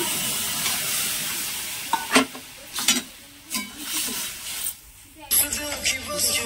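Ground mustard and cashew paste fries in a pan while being stirred, bursts of sizzling hiss and scraping spoon strokes rising and falling close up, ending in a louder, steadier sizzle.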